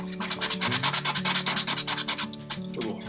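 Steady rhythmic rubbing strokes of sandpaper on a small wooden crankbait fishing lure, close and fairly loud, with a quick regular back-and-forth pattern and no talking.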